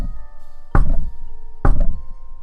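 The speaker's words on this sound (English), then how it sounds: "Then she heard a knock at the door again." Two heavy knocks land on a door about a second apart, each a solid thud with a short ringing decay, close and loud against a quiet background.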